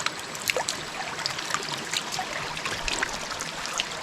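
Water from a forest stream runs and trickles steadily, a continuous broadband wash with small splashy bursts, close and alone with no voices.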